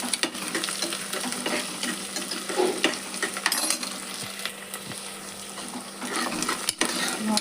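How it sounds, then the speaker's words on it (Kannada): Garlic paste frying in hot oil while being stirred, a steady close sizzle with scraping stir strokes and occasional utensil clinks, no talking. "ಈಗ ಅಲ್ಲ ಬೆಳ್ಳುಳ್ಳಿ ಪೇಸ್ಟ್ ಹಾಕ್ತೀನಿ ನೋಡ್ರಿ. ಇದನ್ನು ಮಿಕ್ಸ್ ಮಾಡೋಣ ಎಣ್ಣೆ ಒಳಗೆ."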